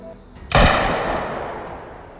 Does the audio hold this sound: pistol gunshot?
yes